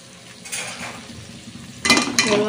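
Chopped tomatoes tossed into a pan of sautéing onions, a short burst of close sizzling with clattering utensil scrapes against the pan, the loudest stirring sounds near the end.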